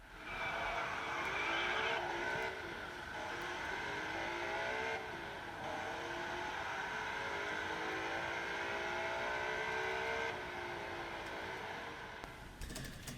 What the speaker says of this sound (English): You can hear the pitch of the engine sounds increasing in discrete steps with each frame.